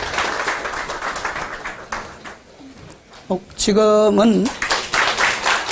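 A church congregation at a Korean Presbyterian ordination service claps in bursts, broken midway by a short spoken phrase and a tonal chime-like sound before the applause resumes.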